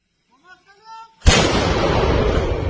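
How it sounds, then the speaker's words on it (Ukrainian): After a few faint voiced sounds, a single loud gunshot bangs sharply, followed by a long, noisy rumbling decay. "Постріл!"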